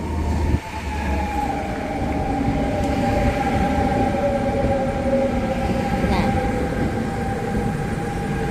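A train rolls through a station in France, a loud steady rumble with a sustained tonal whine and humming drone across the whole stretch, close and continuous, with a sharp clunk near the start.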